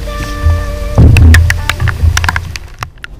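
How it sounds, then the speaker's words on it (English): Heavy rain lashes down at Mozingo Lake during a cold, windy bass fishing tournament, loud and close, with gusting wind roar and sharp spattering hits throughout, plus a steady tonal hum at the start. "20 to 30 mile an hour wind, plus rain, plus it's like 40 degrees."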